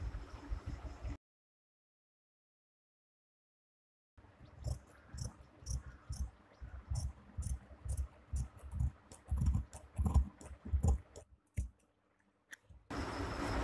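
Scissors snip through blouse fabric in a quick run of crisp, close clicks and crunches, evenly paced, after a short silent gap, fairly faint with no voices.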